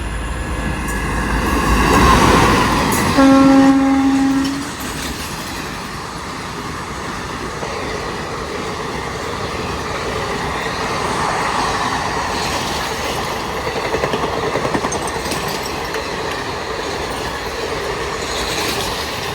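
Mangalore–Coimbatore Intercity train passing near Bekal Fort: a loud, sustained rumble of rolling carriages and wheels, with a brief horn-like tone near the start, continuing steadily throughout.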